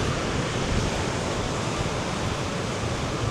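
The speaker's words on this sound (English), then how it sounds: "But look at those waves coming in." Ocean waves roll in on a windy stormy day during Storm Therese in Tenerife, a steady loud broadband roar of surf mixed with wind buffeting the microphone, continuous with no voices.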